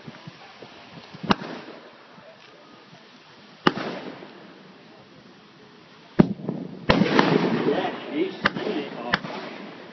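Pyrotechnic gunfire blasts go off in a staged naval battle show on a boating lake, with sharp isolated cracks and then a dense cluster of bangs, heard at a distance under crowd noise and commentary.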